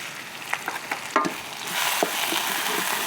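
Pounded chili and garlic paste hits hot pork lard in a pan and fries with a rising, hissing sizzle, punctuated early by a few scraping stirs and clicks, close and without talking.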